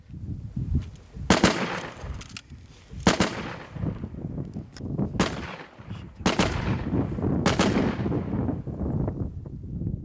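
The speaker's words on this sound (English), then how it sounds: "The Russians shoot back." Gunfire at the Ukraine front line, with repeated sharp cracks and bursts at a moderate distance and a rumbling, blast-like stretch toward the end, no talking heard.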